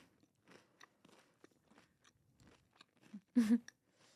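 Close, crisp bites and chewing on a crunchy, flaky buttermilk pastry topped with whipped cream: soft crackly crunches build to one loud bite near the end.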